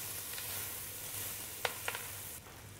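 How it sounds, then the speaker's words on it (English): Crushed garlic and softened onions sizzling in a pan as they are stirred, a faint, quiet hiss with a couple of short utensil scrapes near the end and no talk. "Next, we're going to crush our garlic into the softened onions. Stir for about 30 to 40 seconds."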